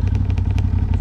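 A quad bike engine runs loud and close, a steady rough throb with a pulsing, clattery edge, heard alone.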